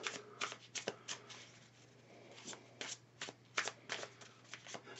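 Tarot cards shuffled by hand in a quiet room, giving bursts of crisp riffling and flicking that come in irregular clusters with short pauses, close and fairly soft, with a low steady hum underneath.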